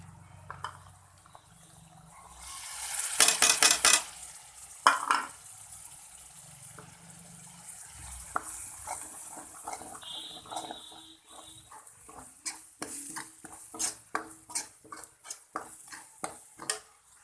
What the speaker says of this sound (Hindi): हमारे प्याज और लहसुन का पेस्ट भुन चुका है। अब हम इसमें अपने मसाले डालेंगे।